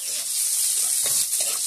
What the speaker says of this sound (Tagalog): Ayan lang, gisa-gisa lang muna.